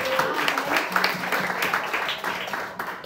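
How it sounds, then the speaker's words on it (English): A game show audience at a live comedy venue in New York applauds and cheers for an incoming contestant, a dense roar of clapping with voices and music mixed underneath throughout. "Clap it up for your next contestant"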